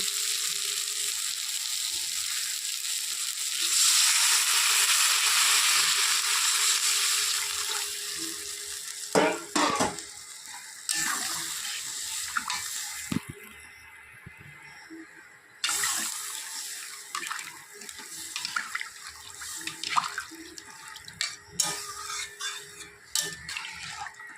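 Water pours from a tap into a pan of fish curry as broth is added, a steady rushing stream at first, followed by clinks, sizzles and scattered handling sounds.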